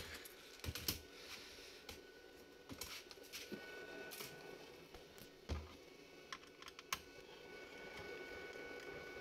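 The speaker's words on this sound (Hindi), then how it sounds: "ये कीबोर्ड ओपन कर लेंगे इसका" Scattered clicks and plastic snaps ring out against a quiet room hum as a laptop keyboard is pried loose during disassembly, with irregular taps and sharp pops spread across the span and no talking.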